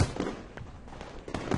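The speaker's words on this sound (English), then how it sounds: "Fireworks." Fireworks bursting in Katawa Shoujo, a quick patter of faint crackling pops and soft thumps at a distance, irregular and fairly quiet throughout.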